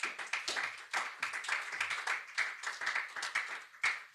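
A church congregation applauds during a French-language evangelistic sermon, with steady, quiet clapping from many hands at a distance and no voices over it.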